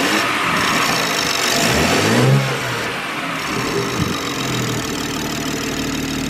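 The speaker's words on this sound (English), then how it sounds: "Rev it a little bit." A BMW M240i with a B58 engine and a newly installed charge pipe revs loudly up close, climbing in a sustained rev and then settling back to a rough idle.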